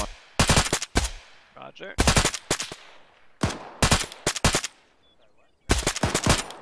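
Gunfire in Arma on a hillside: quick automatic bursts of four or five sharp, loud shots each, repeated several times with short pauses, and someone briefly speaks between bursts.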